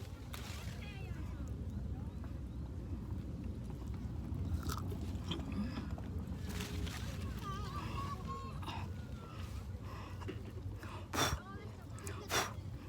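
Fresh strawberries are bitten and chewed at a strawberry farm, giving soft, wet crunching close to the microphone while people chat throughout.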